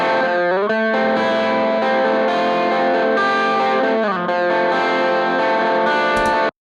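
Distorted electric guitar plays sustained, bending chords continuously, loud and up front with a thin low end trimmed by a high-pass EQ at about 150 Hz.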